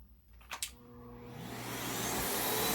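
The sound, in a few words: WORKPRO backpack vacuum cleaner running on minimum suction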